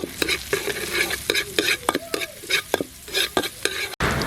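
Sliced onions stir-fried in a pan with margarine or butter and garlic, a spatula scraping in steady, rhythmic strokes over a soft, constant sizzle, close and clear with no voices.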